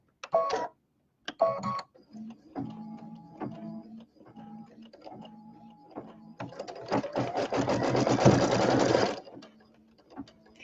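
A sewing machine stitches the corner of a pineapple quilt block in a few short bursts, then runs in one longer, louder continuous stretch before stopping, close up and with no talking.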